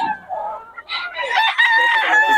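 Chickens clucking and a rooster crowing at a market in Bocaue, close and fairly loud, the calls overlapping in a short busy burst.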